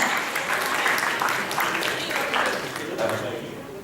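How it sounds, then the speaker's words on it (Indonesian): Audience applause at a national seminar, a steady dense wash of many people clapping that fades slightly toward the end. "Tepuk tangan sekali lagi untuk Putra Brawijaya dan Putra Sudirman"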